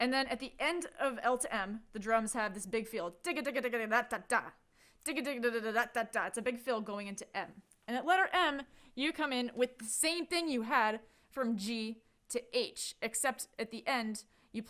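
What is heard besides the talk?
No distinct noise like a dog, phone or traffic.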